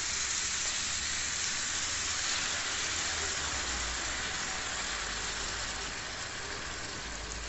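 Pork sizzling and sautéing in a pan while Pork Provençal is cooked, a steady loud hiss of frying that runs without a break, with no voices over it.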